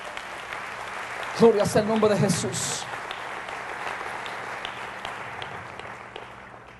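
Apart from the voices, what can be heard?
church congregation applause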